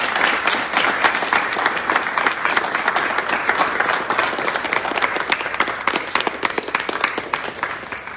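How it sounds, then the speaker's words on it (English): A crowd gathered at a teacher appreciation awards event applauds for retiring school employees, sustained clapping with distinct individual claps standing out, moderately close. "applause."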